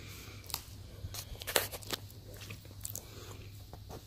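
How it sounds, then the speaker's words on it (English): Someone chewing food up close, with scattered crunchy bites and soft mouth clicks at an irregular rhythm over a low background hum, no talking. "I'm going to stop chewing because that's just rude."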